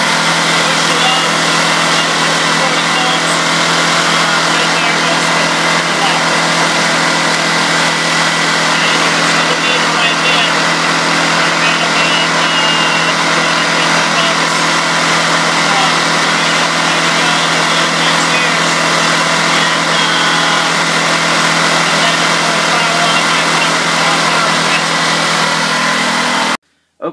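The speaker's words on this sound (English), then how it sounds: "Okay, I just placed a load on my generator" A portable emergency generator engine runs under an electrical load during a storm power outage, giving a loud, close, steady drone that holds unbroken for the whole stretch.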